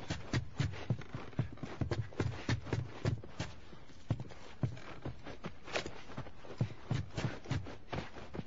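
Horse hooves clip-clopping at a steady walking rhythm in The Last of Us on PS3 at a ranch house by Tommy's Dam, with clear repeated close hoof strikes and no talk.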